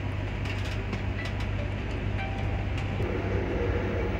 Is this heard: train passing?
yes